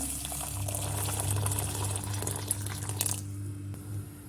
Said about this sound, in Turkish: Üzerine sıcak suyumu ilave ediyorum